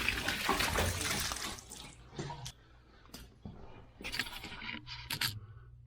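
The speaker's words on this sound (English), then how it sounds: "we're just going to wiggle this toilet" An old cast iron toilet is wiggled off its flange, giving a burst of splashing, spilling water followed by separate scrapes, clunks and drips with short quiet gaps between them.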